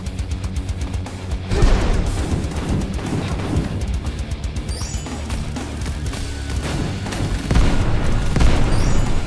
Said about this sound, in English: can't hide from all the explosions.